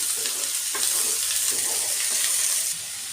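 Chopped potato and finely chopped cauliflower are stirred through in a frying pan for kadhi pulao, giving a steady close sizzle with soft scraping strokes throughout.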